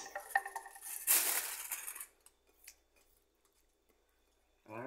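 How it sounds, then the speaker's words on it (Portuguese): Dishes being washed by hand outdoors, with several sharp clinks of pots and plates and a burst of rushing water early on, then quieter scattered knocks and a brief voice at the end. "Vou lavar a louça"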